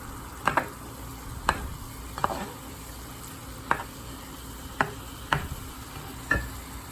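Ground beef frying over high heat in a pan, a soft steady sizzle punctuated by about eight sharp scrapes and taps of a utensil as the meat is pushed around, close and fairly quiet.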